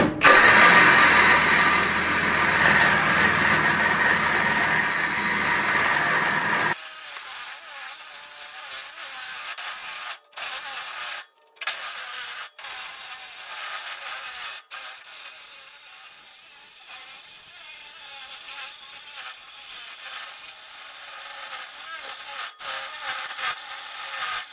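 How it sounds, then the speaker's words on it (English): A Milwaukee saw fitted with a Diablo thick-metal blade cuts a quarter-inch-thick steel I-beam, starting with a loud broadband grind that drops to a sustained, high-pitched scraping whine broken by a few brief pauses. "These Diablo blades have a picture of an I-beam on them, so let's see if we can cut through one."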